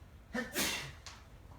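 A single sneeze bursts out in a presentation room: a short sharp intake followed by one loud, breathy burst, then a faint trailing snort, with no talking around it.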